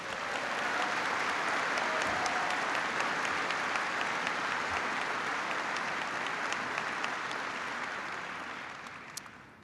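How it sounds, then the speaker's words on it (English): Troops at Fort Bragg give a steady, sustained round of applause, a dense wash of many hands clapping at moderate distance that fades out near the end. "so give them a big round of applause"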